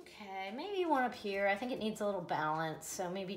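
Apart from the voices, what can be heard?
No distinct noise like a dog, phone or traffic.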